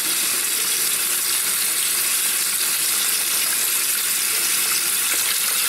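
Hot water runs steadily from a tap after a water heater repair, a continuous bright hiss and splash at close range with no voices.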